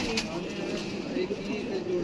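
Pigeons coo softly from a large rooftop loft, repeated low calls under someone talking nearby.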